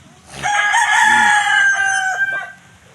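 A rooster at a family chicken farm gives one loud, close crow that rises, holds for about two seconds, then trails off, with no other sound around it.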